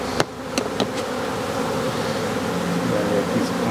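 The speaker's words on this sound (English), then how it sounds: "I'll shake all the bees down in the corner there." A dense swarm of honey bees buzzes steadily up close, with a few sharp knocks and taps near the start.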